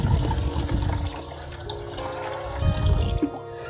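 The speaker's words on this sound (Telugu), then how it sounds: "చూడండి 5 లీటర్ వాటర్ నేను మళ్ళీ యాడ్ చేసినాను." Five litres of water poured into a container of fermenting homemade organic plant fertilizer, a loud splashing gush at the start that eases into a steadier trickle, then swells again near the end.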